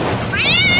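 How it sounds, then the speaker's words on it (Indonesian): A cat on a road gives a single rising meow, close and clear, over a steady background hum. "Awas Gus, kucing."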